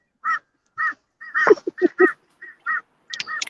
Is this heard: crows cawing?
yes